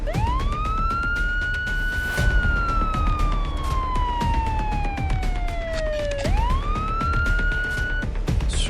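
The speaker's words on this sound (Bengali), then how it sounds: "বাইরে পুলিশের সাইরেন বাজতে শুরু করলো।" Police siren wailing outside, a loud sweeping tone that rises, slowly falls, then rises again, heard alone over a faint background.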